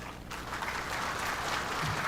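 Seminar delegates at an accountants' annual seminar applaud, a dense, continuous roar of clapping that stays loud and even throughout.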